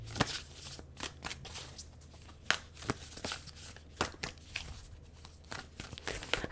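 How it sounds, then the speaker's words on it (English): A giant, stiff animal oracle card deck is shuffled close by in quick irregular bursts of riffling and slapping card edges, with no talk. "it's so awkward for me to shuffle because it's a giant deck"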